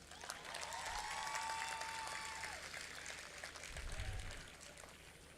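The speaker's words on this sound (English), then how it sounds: "I would like you to give a big round of applause to the parents" An audience at a university convocation applauds the parents, a sustained wash of clapping from a large crowd heard at a distance, steady throughout with a slight swell near the end.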